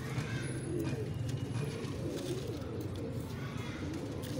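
Pigeons coo with low, repeated, rolling calls close by, forming a continuous soft murmur throughout.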